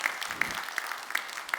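Church congregation clapping for a deacon at an early-morning prayer service, a moderate, fairly even patter of hands with a few sharper claps standing out, no talk over it.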